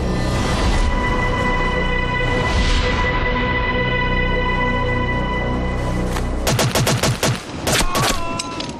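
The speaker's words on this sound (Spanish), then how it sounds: "El ugandés recibe varios tiros." Burst of several gunshots in a documentary reenactment of the Entebbe rescue, loud sharp cracks in quick succession rising out of a dense, sustained musical score.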